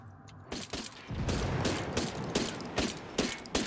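Minigun fire in Ghost Recon Wildlands comes in sustained, dense bursts with rapid crackling shots, cut briefly by a short gap before resuming loudly to the end.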